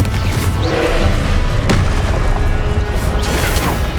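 Confringo blasting spell in the Hogwarts Legacy video game, a loud booming explosion with a sharp crack in the middle, layered over dense continuous battle noise.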